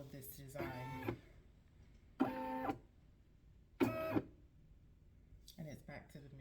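A Brother SE630 embroidery machine traces the outline of a design, giving four short whirring motor bursts with quiet gaps between them, fairly faint and close.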